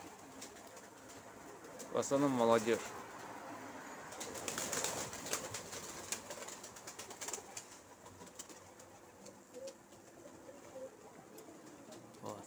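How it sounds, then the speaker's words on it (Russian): About a dozen colored-tail pigeons sit on a rooftop in Dagestan, giving soft distant coos and a brief flutter of wings while someone talks nearby. "Вот там штук 12 голубей там есть на крыше."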